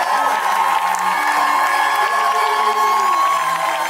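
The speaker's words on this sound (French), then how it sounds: "Poussez des cris de joie." A church congregation shouts and cheers for joy in a loud, continuous roar of many voices with whoops, sustained throughout without a break.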